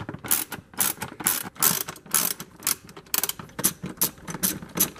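Ratchet clicking rapidly while backing out screws from a Craftsman leaf blower housing, in repeated bursts of loud, close, dry ratcheting with short pauses between strokes.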